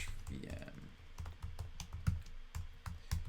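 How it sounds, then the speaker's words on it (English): Quick, uneven clicks of typing on a computer keyboard, fairly close and moderately loud, with a voice speaking briefly near the start during a livestreamed coding session. "Typing is hard, everybody."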